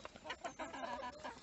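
Young Marans and Bantam hens cluck softly in a backyard coop area, a series of short, close clucks in an irregular rhythm, fairly quiet with no talking.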